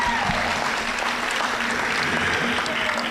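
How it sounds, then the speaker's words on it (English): Steady applause from a festival audience for a group of house drummers at a Tahitian dance competition, dense continuous clapping with crowd noise and some voices underneath, held at an even level throughout. "So give them a round of applause"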